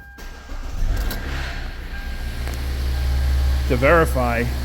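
A car engine cranks and starts up, settling into a low rumble, with a voice speaking briefly near the end.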